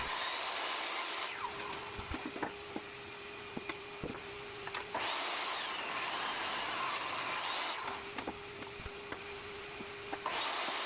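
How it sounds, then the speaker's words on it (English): A table saw rips pallet wood into table legs with a taper jig, a loud continuous whine broken by two quieter pauses between passes, close up with no speech. "set your blade to the thickness of the parts, then rip a leg each"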